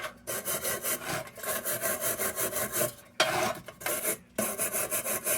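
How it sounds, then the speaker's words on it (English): Bench grinder working on a part from a Rayo No. 78 lantern during restoration, a close, loud rasping grind in repeated passes with brief pauses around the third and fourth seconds. "So I'm going to get this over the bench grinder"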